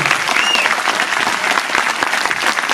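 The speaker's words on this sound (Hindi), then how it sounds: "एक बार तालियां जोड़ के होनी चाहिए।" An audience at a Hindi comedy poetry gathering claps in a dense, continuous burst of applause, loud and close, with faint crowd noise beneath.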